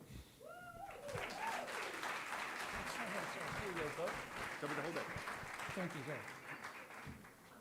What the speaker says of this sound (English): thank you very, very much for the applause